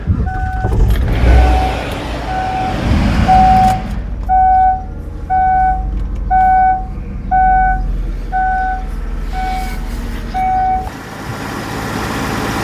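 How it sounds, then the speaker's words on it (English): Car engine cranking and catching during a battery crank test, a rough starter churn followed by a running idle with a repeated electronic beep pulsing over it. "Turn the key over and get her started."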